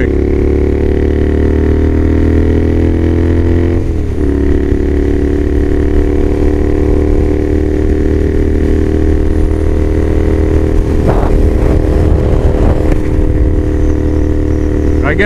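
Motorcycle cruising at around 75 mph, a loud steady engine drone with heavy wind buffeting, and someone talking over it throughout.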